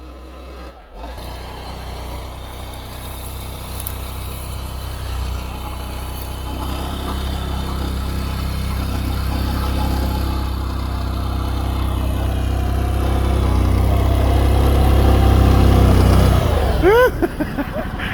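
Argo Aurora 8x8 amphibious vehicle fitted with tracks, its engine droning steadily while cruising over snow, the hum gradually building louder before easing off near the end, heard close and without voices.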